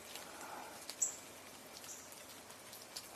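Rain drips off a tree onto a pond outdoors, scattered soft patters and a few sharper drops over a steady faint wash of background hiss.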